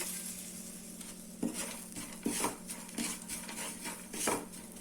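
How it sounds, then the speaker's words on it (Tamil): Pistachios, cashews and raisins frying with semolina in a pan for a maida chandrakala sweet, a steady close sizzle broken by several louder scrapes and stirs of a spoon against the pan. "இப்போ பிஸ்தா, முந்திரி, கிஸ்மிஸ் போடுறேன்"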